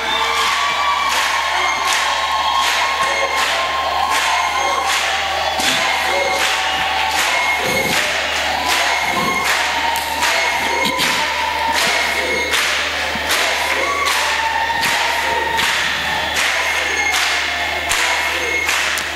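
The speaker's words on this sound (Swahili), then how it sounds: "Endelea kupiga makofi mbele za Bwana." A church congregation claps in a steady rhythmic beat and cheers during worship, loud and close, with shouts and voices mixed into the continuous sharp handclaps.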